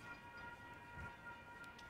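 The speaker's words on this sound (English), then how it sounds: "Here comes train. The train got here pretty fast." Train number 27 approaching at Santa Rosa north, a steady low rumble with a sustained tonal hum, distant and fairly faint, with no talk over it.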